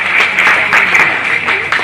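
Audience applause at a public felicitation event in Shrirampur, a dense steady wash of clapping that holds loud and even for the whole stretch, with faint voices mixed beneath.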